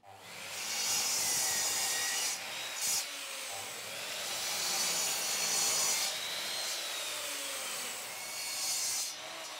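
Steady, close sawing through half-inch wooden boards, cut to make a folding wooden stool, with long continuous strokes and a brief pause partway through.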